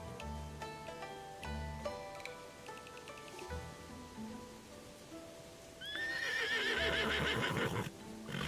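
A horse in the video game Love and Deepspace lets out a loud, shaky whinny near the end, after a stretch of plucked music and light hoof clops.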